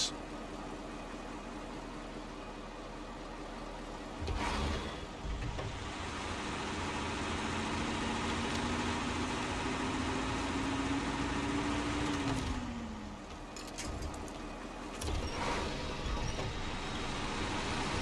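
A Kikimore truck's engine idles steadily in the off-road driving game Snowrunner, a low continuous rumble with a rising whine in the middle and brief knocks and clunks.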